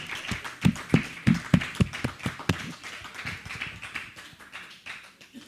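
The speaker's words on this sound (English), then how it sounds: "let's give a big, big round of applause and thank you for this team" A handful of people clap in a short, uneven run of sharp claps at a volunteer appreciation and thanksgiving feast, loudest at first and then thinning out into softer scattered taps.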